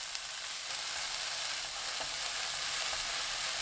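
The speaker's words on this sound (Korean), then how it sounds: "지글지글 소리 나면 바로 숙주나물 넣어주세요" Steady, continuous sizzling of bean sprouts stir-fried over high heat with garlic and scallion whites in a hot frying pan, loud and close, with faint scraping stirs underneath and no voices.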